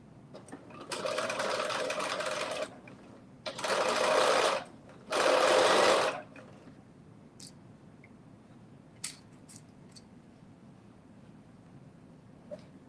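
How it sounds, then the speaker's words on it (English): A sewing machine stitches a regular quarter-inch seam in three close, steady bursts of about two seconds each, with quiet pauses and a few faint clicks between them. "So I'm just going to stitch this at 1/4 inch. This is not a basting stitch. This is a regular stitch."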